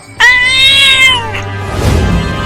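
A cartoon cat gives one loud, drawn-out meow, close and clear, trailing off into quieter background noise.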